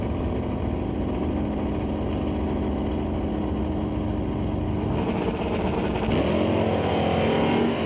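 Drag race cars at Mission Raceway Park during an ET series race roar loudly and continuously, with engine pitch rising toward the end as they run down the strip.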